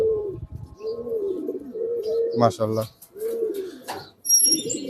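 Racing pigeons kept for tournament flying coo in repeated low, throaty phrases close by, with brief chirps mixed in and someone speaking over them.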